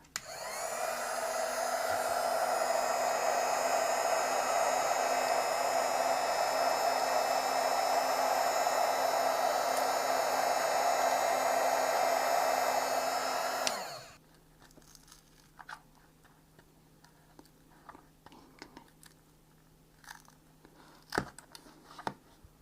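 A hot air blower runs steadily and loudly for about fourteen seconds while heating the glued skate of a Razer Cobra mouse, then cuts off abruptly, leaving faint scattered clicks and handling noises.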